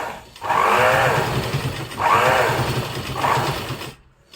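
A high speed sewing machine labours through a thick, heavy mat in three loud, strained surges of whirring motor and rapid stitching, each about a second and a half long, before stopping.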